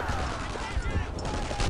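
Machine gun fire in the World War II shooter Brothers in Arms: Earned in Blood, a brief dense burst of rapid shots heard over a busy battle mix.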